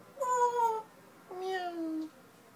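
A person imitates a cat with two drawn-out, whiny meows, close and fairly loud, separated by a short pause.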